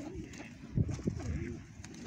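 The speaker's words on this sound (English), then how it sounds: "this pigeon is sitting right next to the camera here" A pigeon coos close by in the evening, giving soft low rolling coos that rise and fall, with brief louder bursts and faint background noise.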